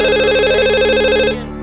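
A telephone rings with a loud, warbling electronic trill, close and alone, the tone cutting off abruptly near the end.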